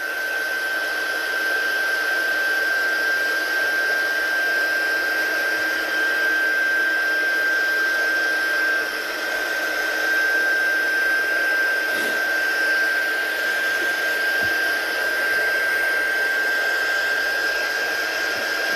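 A heat tool blows steadily while drying craft paint on a stamped northern-lights painting, a constant whirring hiss with a thin high whine that holds nearly unchanged throughout.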